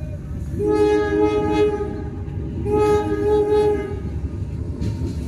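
A train passes near Solo Balapan station in Indonesia, sounding two long loud horn blasts over a rumbling rail noise, close by.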